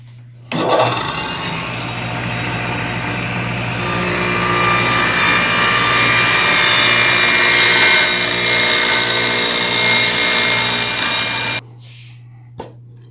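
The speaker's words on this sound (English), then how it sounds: "Now I'll raise the saw blade," A table saw blade is raised up through a zero clearance insert, cutting its own kerf: a loud, steady motor roar and whine runs unbroken for about eleven seconds, then cuts off abruptly, with no talking.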